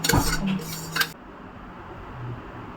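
Makhana kheer scooped out of a cooking pot into a bowl, a few close metallic clinks and scrapes of a spoon against the pot in the first second, then only quiet room tone.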